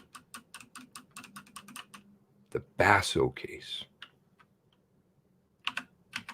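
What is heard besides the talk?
typing on a computer keyboard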